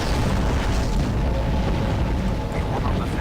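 Spaceship explosion in the Star Trek Online space combat game, a loud continuous roaring rumble of blasts and debris filling the whole stretch with no break.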